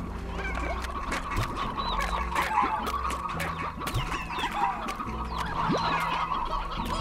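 An Elder Rooster in the video game Slime Rancher clucks repeatedly among other fowl clucks and honks, busy and fairly loud, with brief talk over it.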